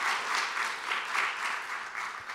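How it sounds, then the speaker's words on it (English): Audience at a suicide-prevention talk applauds, a brief, soft and fairly distant patter of many hands with a gently pulsing rhythm. "let's just hear another round of applause for them"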